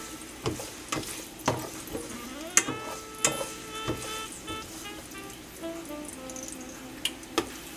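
A spoon stirs tomato sauce as it roasts lightly in a pan, with fresh tomatoes and garlic bubbling quietly. Soft, regular knocks against the pan sound over a low, steady sizzle.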